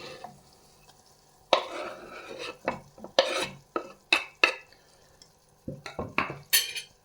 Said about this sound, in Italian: Soffritto è ormai pronto, metto giù anche i pomodori